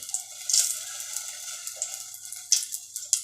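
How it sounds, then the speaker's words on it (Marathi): Hot oil sizzles quietly for tempering a spicy shark curry, a faint, steady crackle with a few sharper spits and pops near the end and no voices. "आपण ना मुशीला मस्तपैकी फोडणी घालून घेऊया इथे मी एक चमचावर तेल टाकलं आहे"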